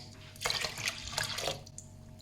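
Water splashes and pours into a pot for cooking oats in a home kitchen, a close, uneven liquid gush lasting a couple of seconds.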